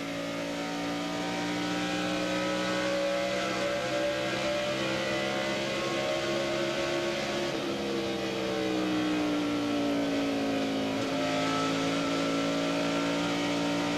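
NASCAR stock cars in a 2000 race pull away together after a caution, engines building speed as a pack. The harmonic roar rises and falls steadily for the whole stretch, loud and continuous with no talk.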